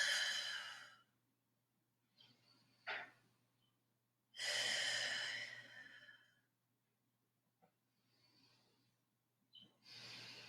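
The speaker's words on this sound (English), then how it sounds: "Nice full breaths." Deep, full breaths during a down-dog yoga pose in a class setting: slow, soft exhales and inhales in separate waves with quiet pauses between, close and gentle, with no talking.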